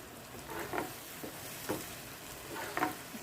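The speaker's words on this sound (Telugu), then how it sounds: "ఇప్పుడు టమాటా ప్యూరీని కూడా యాడ్ చేస్తున్నాను. బాగా వేయించుకుందామండి." Tomato puree and onions fry in a pan for a cashew and meal maker masala curry, with a steady close sizzle and periodic scraping stirs of a spoon through the thick mixture, no voices.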